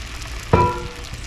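Liquid hits frying sausage in a hot pan for red-eye gravy, giving one short, loud hiss that fades quickly back into a low background sizzle.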